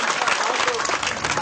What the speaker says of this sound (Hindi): विधायक जी की हर बात पर ताली बजी